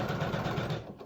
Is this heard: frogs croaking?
no